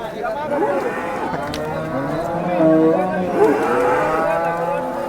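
Cows moo repeatedly at the Sangola cattle market, long drawn-out calls overlapping one another, fairly close and loud, with some faint background voices mixed in.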